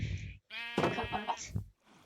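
Two sheep bleats in Minecraft, loud and close, the second long and wavering, with a brief silent gap between them.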